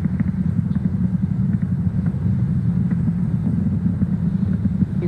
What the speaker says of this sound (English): So we're going to throttle up those engines again on these side boosters.